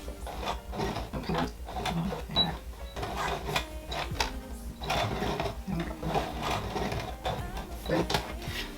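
Sewing machine back-stitching over a wig weft, a rapid mechanical clatter in short uneven bursts, close and moderately loud, with brief pauses between runs.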